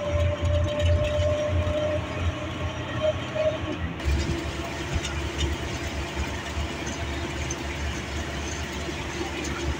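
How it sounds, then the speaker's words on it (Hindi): A train at a railway station in Pakistan rumbles and idles with a steady low engine drone and rolling rail noise, loud and close, while a voice talks over it. "ट्रेन चल रही है और ट्रेन चल चुकी है।"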